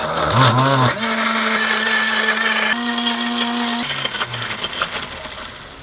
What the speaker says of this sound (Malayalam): ഈ ഒരു മിക്സിയിൽ വെച്ചിട്ട് നമുക്കത് അരച്ചിട്ടുണ്ട്